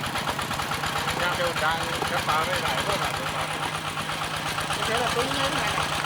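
An engine-driven pump runs at full power while pumping water from a pond to catch small fish in Thung Kula, Roi Et, Thailand, giving a steady close mechanical drone throughout with voices talking over it.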